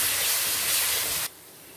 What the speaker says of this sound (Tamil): இப்போ இதையும் நல்லா எண்ணெயில் வதக்கிடணும்.